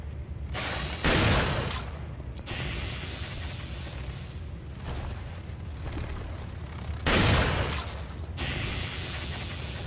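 Shotgun blasts from the video game Resident Evil 4: two loud booming shots with rumbling tails a few seconds apart, set against a constant low rumbling game background.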